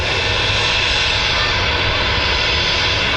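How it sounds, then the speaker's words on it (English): A TUI Boeing 737 jet taxiing out at Manchester Airport, a loud, steady, broadband engine roar and whine that holds constant throughout, with no voices. "So there's a TUI 73 on the way out, I believe it is. On the way out? Yeah, it's just taxiing now."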